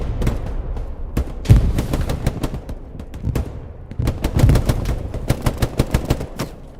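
Rapid gunfire from the World War II shooter game Hell Let Loose crackles in bursts and single cracks, some close and sharp, others dull and distant, repeating irregularly throughout with no speech.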